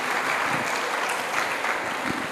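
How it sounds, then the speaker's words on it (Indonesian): A crowd breaks into steady applause, dense and continuous clapping throughout the short moment with no voices over it. "Mau tepuk tangan Besti ya."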